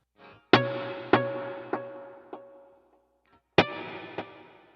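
Electric guitar through a Line 6 HX Stomp with the delay's feedback and mix raised: a short note, then a chord repeated in decaying echoes, each one quieter, followed by a fresh chord with its own echoes, all played alone.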